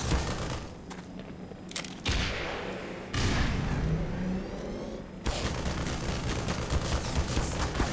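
Gunfire from the shooter game Black Mesa, a couple of loud shots among dense game combat noise, thumps and engine-like rumble, with no voices over it.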